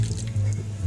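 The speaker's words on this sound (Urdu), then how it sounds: "اب میں یہ گرم پانی ڈال کے دوبارہ دھوتی ہوں" Chicken being washed again with hot water, giving a short, close, wet squishing and dripping over a low steady hum.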